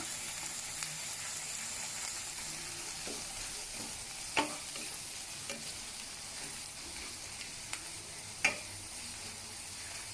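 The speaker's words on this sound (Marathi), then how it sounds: "आता आपण त्यात टाकणार आहोत आलं लसूणाची पेस्ट, ती छान परतून घेऊया" Steady frying sizzle from ginger garlic paste on high flame in a hot pan, a constant loud hiss broken by a few sharp scrapes of stirring.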